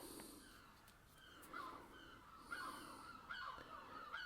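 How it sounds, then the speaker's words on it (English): Seagulls calling at a beach, faint and distant, with a few squawking cries scattered over a soft background hush. "you hear those seagulls out there?"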